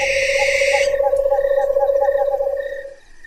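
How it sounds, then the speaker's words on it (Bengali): A black owl calls from nearby in a steady run of rapid, pulsing hoots or screeches that fades toward the end. A brief burst of hiss opens the call. "মাঝে মাঝে কালো পেঁচার চেঁচানি কানে ভেসে আসছে"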